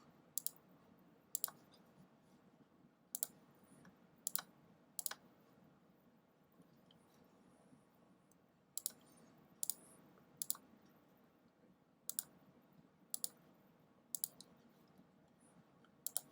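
Sharp, quiet computer mouse clicks arrive singly and in quick pairs at irregular intervals while editing in Photoshop, over a faint steady room hiss with no talking.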